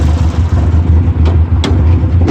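A Merkur XR4Ti engine idles close and loud while warming up, a steady low, pulsing rumble with a few brief louder blips.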